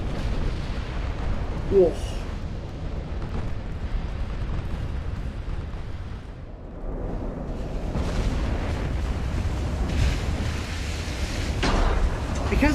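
Sixteen 20-inch guns in quad turrets on a French battleship fire in naval combat in Ultimate Admiral, a broad rumbling roar of heavy gunfire that swells and lingers, with a brief startled exclamation from a voice.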